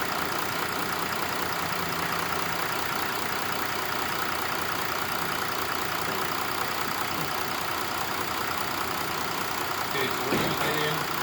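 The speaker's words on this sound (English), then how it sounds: "This is a 2013 Mercedes-Benz 3-liter. Isn't that wonderful diesel rumble?" A 2013 Mercedes-Benz 3-liter diesel engine idles with a steady, loud, unbroken rumble nearby, and a brief clatter of handling near the end.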